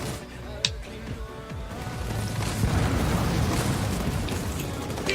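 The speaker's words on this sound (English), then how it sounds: "That EMP Mac blast" An EMP MAC blast explosion in Halo Wars 2 lands as a short pop, then a broad, rumbling wash of battle noise that swells and holds, loud and dense, with no clear voice on top.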